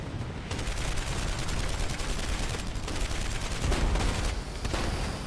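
Rapid gunfire aimed at an aircraft propeller in the video game Marlow Briggs, a dense, continuous barrage of automatic shots with a heavy low rumble, loud and sustained with brief dips, no talking.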